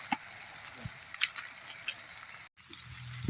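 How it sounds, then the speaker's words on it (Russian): Chopped onion frying in a hot pan, a steady soft sizzle with faint crackles and a brief stir or two, close by and without talk. "Так, ну вот, лучок у нас подрумянился."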